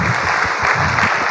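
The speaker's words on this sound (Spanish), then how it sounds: "¿Cuántos pueden dar un fuerte aplauso al Señor?" A church congregation bursts into dense, loud applause, a steady wash of many hands clapping at once that fills the whole short moment.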